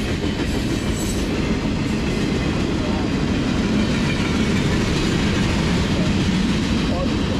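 Freight train cars rolling past on a railroad close by, a loud continuous rumble with clattering wheels and occasional squeal, steady and unbroken throughout.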